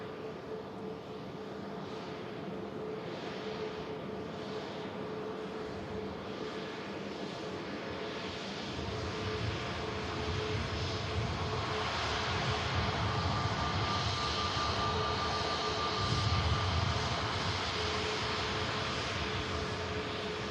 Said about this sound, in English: as a Virgin Atlantic lines up on the runway, but not going to take off straight away